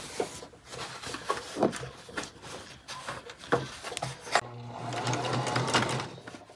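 A sewing machine stitches close to the edge of fabric for a high-low dress or jacket, its motor whirring in short bursts before running steadily for a longer stretch, close and moderately loud.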